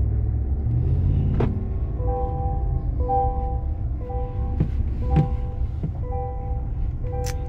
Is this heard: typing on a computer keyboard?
no